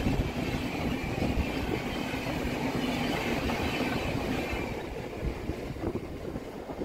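A Howrah-Barddhaman fast MEMU local pulls into Barddhaman junction at night, its carriages rumbling and clattering steadily close by, with a faint squeal of wheels near the end and no voices.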